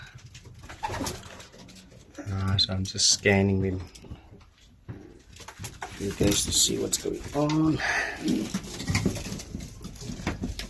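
Racing pigeons in a loft, some weak after pox treatment, coo in repeated throaty bursts, with soft shuffling. Someone talks over and between the calls.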